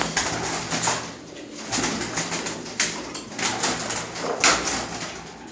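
A male pigeon coos in soft, throaty bursts close by as a female is released beside him, with rustling and light fluttering mixed in.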